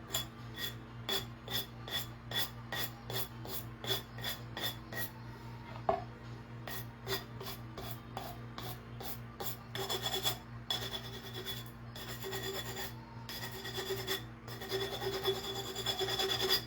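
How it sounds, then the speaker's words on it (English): A glass Ball canning jar made in the USA is sanded by hand, giving steady rhythmic rasping strokes that are faint and repeated at an even pace, with a low constant hum underneath. "So I went ahead and sanded that part too."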